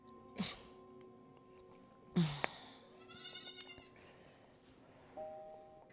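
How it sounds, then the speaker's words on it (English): Goat bleats from a TV drama scene, two sharp loud cries followed by a wavering, quavering bleat and a softer call at the end, over a quiet hum. "It's a goat. You better follow that goat."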